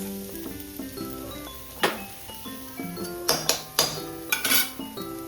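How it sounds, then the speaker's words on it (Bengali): Bread toasting with ghee in a pan gives off a gentle sizzle, broken by sharp clinks and scrapes of a utensil against the metal, all close and soft while tonal background music plays. "ও বললো একটু ঘি দিয়ে টোস্ট খাবে, তো সেটাই করছি"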